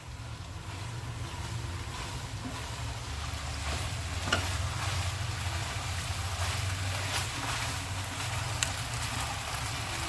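A spoon stirs macaroni coated in soy sauce and ketchup in a pan, giving a steady scraping, sizzling wash with soft clinks, continuous and close, no voices.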